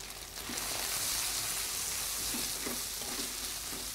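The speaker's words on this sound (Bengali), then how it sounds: "কাজেই আমি ডিম পেঁয়াজ মরিচের আন্দাজ লবণ মিশাই।" Eggs, onion and chili being mixed and fried in a pan as part of a leftover-rice dish, heard as a steady hiss of frying with a few soft stirring knocks, close and moderately quiet, with no talk.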